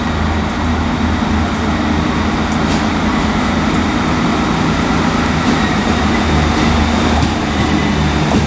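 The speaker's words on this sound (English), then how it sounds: "there goes 158701 departing with the 1802 ScotRail" ScotRail class 158 unit 158701 pulls out of Aberdeen station with a loud, steady diesel engine drone and a constant low rumble, close by, with no voices over it.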